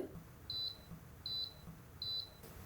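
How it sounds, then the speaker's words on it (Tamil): A home milk maker finishing a batch of urad dal milk gives three short, evenly spaced electronic beeps, clear and high-pitched, over a quiet background hum. "இப்போ பீப் சவுண்ட் வந்தது இல்லைங்களா"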